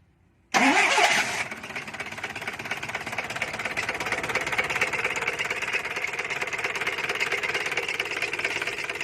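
A 1991 Isuzu NPR truck's 115-horsepower engine cranks and catches with a loud burst, then settles into a steady, rattling idle close by that keeps running to the end, with no voices.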